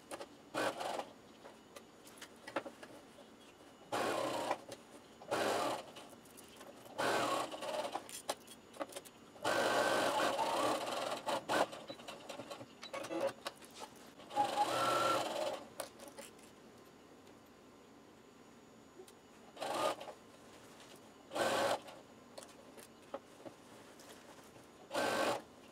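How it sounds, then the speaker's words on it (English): A sewing machine stitches a grocery bag in the area between the handles, running in short bursts and a few longer runs separated by quiet pauses, close and moderately loud. "we're going to sew this area here between the handles"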